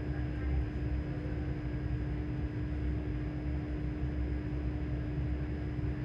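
Inside a moving ScotRail Class 385 train between Falkirk and Polmont, a steady low rumble and broadband hum with a constant tonal whine, even and unbroken throughout.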